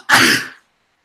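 One short, sharp sneeze bursts out close by, then quiet.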